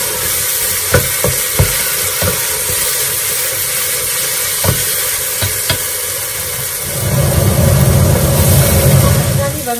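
Ginger garlic paste sautéing in a pan for mutton biryani, a continuous sizzle marked by sharp spoon clicks and scrapes early on, then a fuller, louder frying hiss toward the end.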